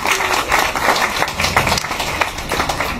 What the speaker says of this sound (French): je veux vraiment que vous applaudissiez ces enseignants-là